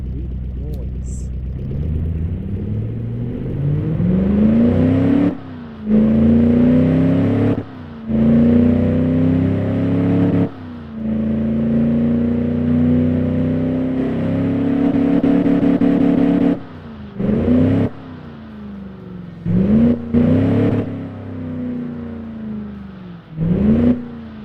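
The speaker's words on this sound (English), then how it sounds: "I like listen to the burple of the engine." A car engine in the Automation car-building game idles with a shaky, burbling note and revs up repeatedly in long rising and falling pulls, loud and close, with brief drops between revs and no talking.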